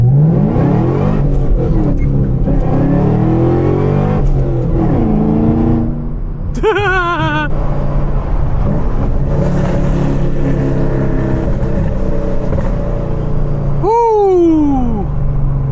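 Win 7 Creations GT4-converted Porsche Cayman engine revving loudly up close, rising and falling through several sweeps with sharp high-pitched spikes near the middle and end, over steady street-meet rumble.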